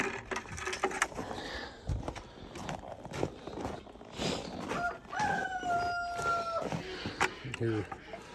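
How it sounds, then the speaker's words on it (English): A rooster crows a few times from inside a farm coop on a cold winter morning, moderately close, with people talking, footsteps and handling noises around it. "roosters ready to come outside, sounds like"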